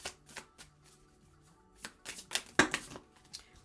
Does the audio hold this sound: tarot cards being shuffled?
yes